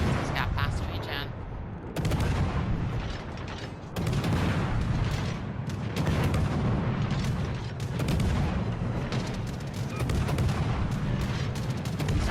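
Anti-aircraft guns on the Friesland destroyer in a naval warfare game pound steadily, a continuous, loud stream of booming shots and mechanical clatter with someone talking over it.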